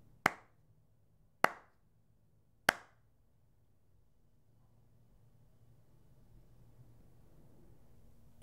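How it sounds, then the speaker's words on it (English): Three sharp hand claps spaced about a second apart, loud and close, followed by a quiet room tone with a faint low hum. "I'm going to clap 3 times"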